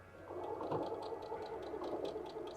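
A sewing machine fitted with a blind hem foot stitches along a folded fabric edge, giving a steady close mechanical whir with a faint regular pulsing throughout.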